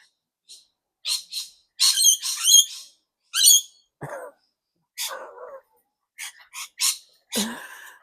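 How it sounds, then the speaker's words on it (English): Birds squawking in short, harsh bursts, several calls in quick succession with brief pauses between, fairly close and loud. "I don't think these birds are going to let me do this."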